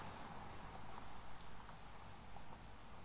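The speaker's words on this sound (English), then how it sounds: "Rain's still wet." Steady rain falls outdoors as a dense, even hiss of drops spattering on surfaces, close and continuous with no voices.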